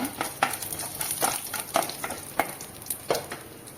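Urad dal and broken dried red chilli frying in oil in a pan, a steady close sizzle with repeated scraping strokes of a spoon stirring through it.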